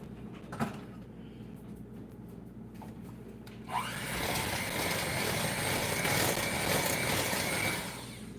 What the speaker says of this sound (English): Make sure you unplug the hand mixer before, before removing these, and make sure it's definitely in the off position.